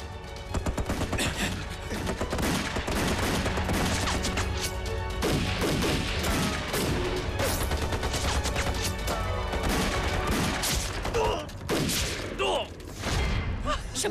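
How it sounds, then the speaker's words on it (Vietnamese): Rapid gunfire from a battle scene rattles continuously in dense overlapping bursts, loud and close, with crashes and impacts mixed throughout. "Tiếng súng dồn dập như vậy, lẽ nào là quân chủ lực của quốc quân?"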